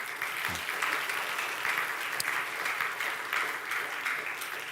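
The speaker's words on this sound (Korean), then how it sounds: "이분을 오늘 박수 한번 쳐보세요" A church congregation claps steadily for several seconds, a dense, even wash of applause from many hands indoors.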